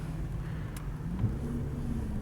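An Audi S8 4.0 TFSI V8, not yet fully warmed up, rumbles low and steady as it begins to pull away slowly, the engine note quiet and close with no talking over it.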